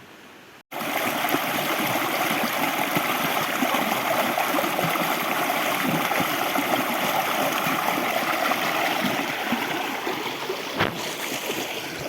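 Steady rushing of flowing river water at Machhakandana waterfall in Mayurbhanj, loud and close, continuing evenly throughout after a brief quiet start.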